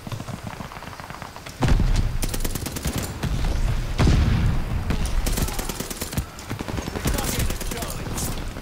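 Shotgun blasts in a first-person video game, played on mouse and keyboard: a run of loud, sharp reports with rapid crackling bursts, mixed with game noise and some talk.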